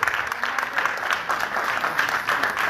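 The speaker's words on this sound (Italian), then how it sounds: "Faccio un applauso a Mario Barbuto" Sustained audience applause at an Italian political rally for the Sicilian regional presidency, steady dense clapping from a large crowd throughout, fairly loud and close.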